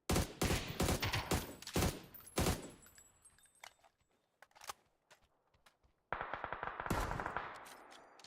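Rapid bursts of video game gunfire crack loud and close in quick volleys, fading to sparse shots before another sustained burst with a continuous background hiss.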